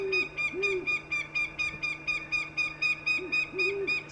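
Recorded great horned owl hoots play from a small camouflaged boom box behind nets, with deep hoots in slow pairs and a steady, repeating chirping bird call running loudly over the whole stretch.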